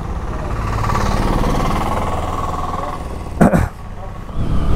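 An Apache motorcycle engine idles with a steady low rumble close by, interrupted near the end by a short sharp knock before the engine sound resumes.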